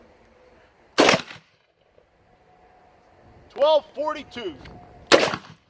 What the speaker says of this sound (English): It's the 2 NIJ heavy threat rounds, which will be the 158 grain 357 Magnum and the 240 grain 44 Magnum